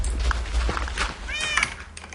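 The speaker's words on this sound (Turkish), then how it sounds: "burada bir yerde miyavlayan bir şey var ya" A cat meows in the Minecraft Block Hunt minigame, a short series of two or three thin mews in the second half, close and moderately loud over a soft background hum.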